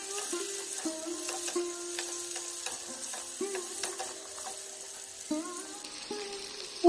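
Pumpkin and potato pieces stirred in a pan over a medium gas flame, with steady sizzling and repeated scraping strokes of a spatula, close and clear, no talking.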